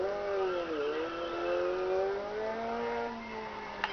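Caterham CSR 260 in the Test Drive Unlimited video game accelerates hard, its engine note climbing, dipping at a gear change, then rising again in one continuous, fairly quiet run.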